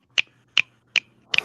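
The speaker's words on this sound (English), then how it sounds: "Snap your fingers." Audience finger snaps in coffee-house-style applause: four crisp, close snaps spaced about evenly, the last one doubled, with no voices.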